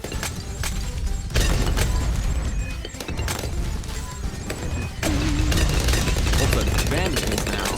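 Banana bomb explosions go off in the Bloons TD 6 tower defense game as a dense, continuous barrage of crackling booms and bursts, loud and layered over game music and effects.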